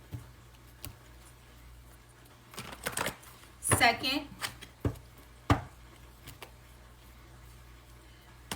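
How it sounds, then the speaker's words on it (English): Tarot cards being shuffled at close range, with a few crisp riffling bursts and soft taps between quiet pauses, while a voice briefly speaks a count. "We're going to shuffle these cards 5 times."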